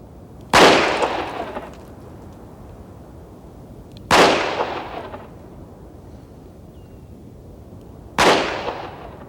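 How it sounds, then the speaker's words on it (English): Three loud revolver shots at a firing range, spaced about four seconds apart, each a sharp close crack trailing off into a short echo, with no voices between them. "Those shots went low because you're flinching."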